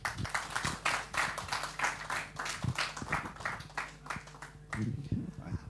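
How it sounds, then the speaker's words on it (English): An audience at an award ceremony during a medical conference on breast cancer claps in a steady, moderate round of applause heard from the room, fairly faint and continuous, with a few louder individual claps. "Round applause,"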